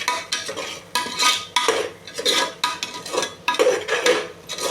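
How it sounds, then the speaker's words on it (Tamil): A ladle scrapes and clanks against a pot as ground onion paste is sautéed for South Indian ghee rice, with repeated stirring strokes in an irregular rhythm, close up and without talk. "அந்த வெங்காய வாசனை போகிற வரைக்கும் நம்ம வணக்கினா போதும்"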